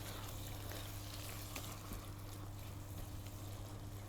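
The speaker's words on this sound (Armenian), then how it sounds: "Մի քիչ ջուր եմ ավելացնելու։ Շատ թեթև, որպեսզի մենք մեր թավան դիգլեյզ անենք" A hot pan of meat sizzles steadily as a little water is added to deglaze it for Mexican nachos, a constant close hiss and crackle with no talking.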